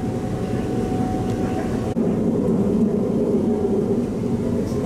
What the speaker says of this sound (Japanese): 床下から聞こえてくる音が日本のローカル線を走っているような列車の音で